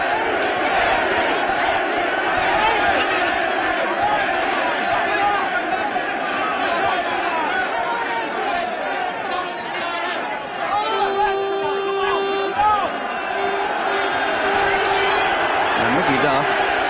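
Boxing arena crowd at the Henry Wharton fight, loud and continuous with dense chatter and scattered shouts, a roar rising toward the end.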